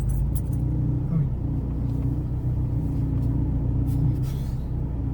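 A Volkswagen Golf 6 TDI diesel engine with a Stage 2 tune, running at a steady idle, with a deep, even rumble heard up close and no one talking.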